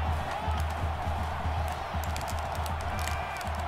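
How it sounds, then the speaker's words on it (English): Roaring stadium crowd in the College Football Revamped video game at a Missouri home game, a dense steady wall of cheering and noise, loud and continuous throughout with no talk over it. "Listen to this crowd."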